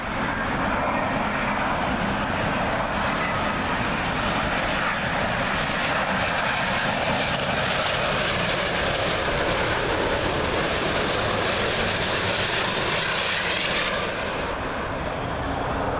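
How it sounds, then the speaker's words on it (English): A Qatar Airways Airbus A350 in oneworld livery, arriving from Doha and landing on Heathrow's runway 27L, passes close and loud with a dense, continuous engine roar that fades slightly at the end, with no voices. "Qatar Airways A350 One World livery. Arriving in from Doha"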